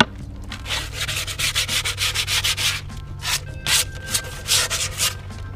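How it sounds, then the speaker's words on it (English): Leftover skateboard grip tape is dragged over the board in a series of quick, loud, rasping swipes, about a dozen rhythmic strokes close up with brief gaps between them. "I just take the leftover grip and I kind of just do one quick swipe"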